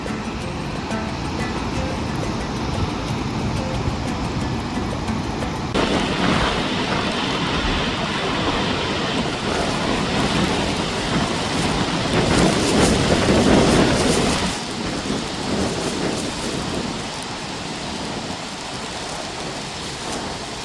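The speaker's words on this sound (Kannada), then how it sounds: "ಇವಾಗ ಸ್ವಲ್ಪ ಮಳೆ ಕಮ್ಮಿ ಆಯಿತು. ಕಮ್ಮಿ ಅಂದರೆ ಪೂರ್ತಿ ಕಮ್ಮಿ ಇಲ್ಲ." Steady rain falls outdoors near Mallalli Falls, a dense continuous hiss that swells louder midway and eases slightly toward the end, with no voices.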